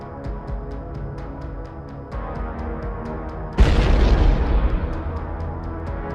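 A loud explosion in combat footage from the war in Ukraine, a single sharp blast that rolls out over a few seconds above a steady mechanical drone with a regular ticking.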